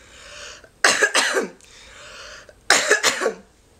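Two sharp, forceful coughs close to the microphone, each a quick burst of two or three hacks separated by a short pause, with faint hiss between.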